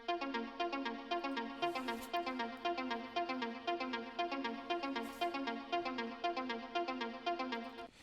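Pluck synth from the Nexus plugin in a deep tech house production, playing a steady repeating arpeggio of short bright notes in an even rhythm, soft and alone throughout.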